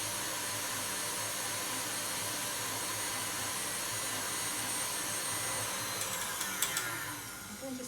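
An electric whisk beats eggs until they turn thick and frothy, giving a steady, loud, continuous motor whir that runs through the whole stretch, with a few brief clatters near the end.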